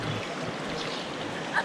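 Water rushes steadily down a channel at a gold panning site at the Panguna Mine on Bougainville, a continuous broad wash with no pauses.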